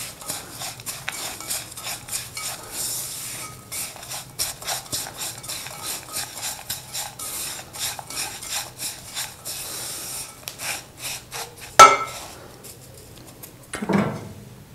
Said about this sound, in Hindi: 1 मिनट चम्मच से चलाना पड़ेगा थोड़ा।